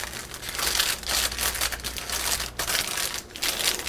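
A head of oven-roasted garlic is cut open with a knife, giving close, crinkly crunching and crackling of papery skin in uneven bursts, with a low hum underneath.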